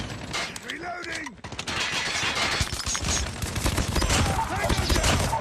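A weapon magazine being changed in Call of Duty Mobile: mechanical clicks and ratcheting metal up close, set against bursts of gunfire and battle noise, with a voice calling out.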